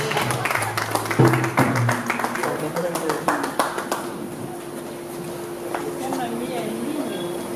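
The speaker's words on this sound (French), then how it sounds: "Applaudissez pour Mamie Hilaire, s'il te plaît" Audience claps at a music ceremony honoring a late artist, a scattered run of hand claps that thins out and fades, with a presenter speaking over it.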